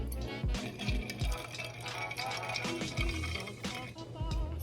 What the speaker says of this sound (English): I'm gonna go ahead and add the rest lemonade.